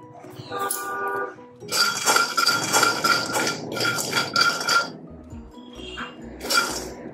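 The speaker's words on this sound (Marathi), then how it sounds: "आता याच भांड्यात मी शेंगदाणे भाजून घेते।" Peanuts dry roast in a pan with bright metallic clinks and rattling as they are stirred and tossed, in bursts separated by short pauses, close and fairly loud.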